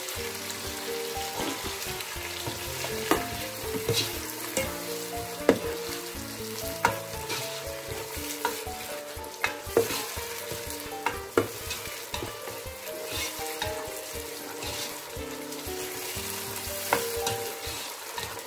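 Tomato, celery and leek fry in a pan for Cameroonian-style fried beans, sizzling loudly and steadily up close, with repeated stirring clatters and faint music-like tones underneath.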